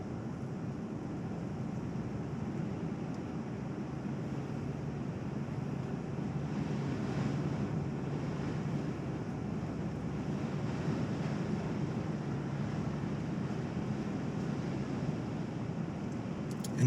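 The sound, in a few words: strong wind around a Jeep Wrangler while driving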